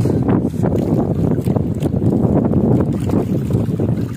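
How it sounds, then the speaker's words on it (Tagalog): Strong wind roars continuously across a small fishing boat out at sea during stormy weather off Southern Leyte, a loud, gusty buffeting on the microphone with faint water sounds beneath. "Malakas ng hangin."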